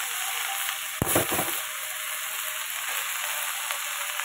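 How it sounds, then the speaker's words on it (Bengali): Spinach greens are tipped into a hot pan with a sudden loud burst of sizzling that quickly settles into a steady, softer hiss of frying. "এই দেখো শাকটাকে আমি ঢেলে দিচ্ছি"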